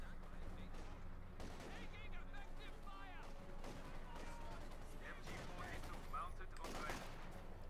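Machine gun fire in the Company of Heroes 2 strategy game, a match between OKW and Soviet forces: rapid bursts of gunfire and artillery booms, moderately distant and mixed with battle noise, under a commentator's talk.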